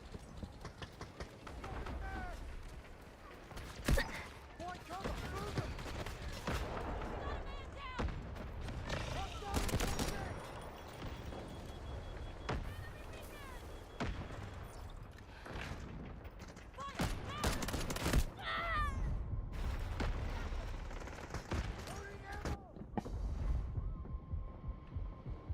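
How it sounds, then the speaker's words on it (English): Artillery barrage in a military video game, scattered heavy booms and bursts of gunfire over a busy battle din, with radio-style voices talking throughout. "Artillery barrage incoming."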